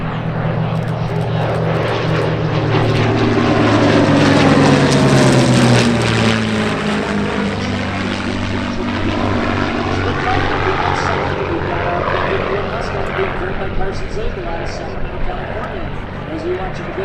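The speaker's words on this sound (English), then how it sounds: "This is what we call a dissimilar formation coming in the aerobatic" A WWII Corsair flying past in a dissimilar fighter formation at an airshow: a loud propeller-engine roar peaks early, then its pitch sweeps down as it recedes, under a commentator's voice.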